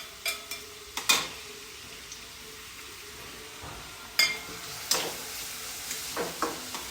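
Finely chopped onion frying in oil for samosa filling, a low, steady sizzle with a few sharp scrapes and clinks of a spoon stirring the pan at irregular moments.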